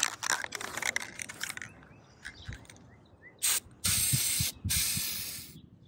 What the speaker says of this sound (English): So I'm ready to start spray painting them.